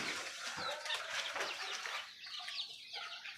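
Desi chickens on a rooftop garden cluck and call softly at a distance, with a brief flutter of movement and no voices.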